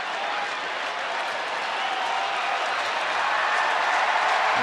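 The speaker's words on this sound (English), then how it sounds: "Crowd on their feet at Rangers ballpark" Baseball crowd on its feet at the Rangers ballpark in Texas, a dense, sustained roar of cheering and applause that holds steady and builds slightly.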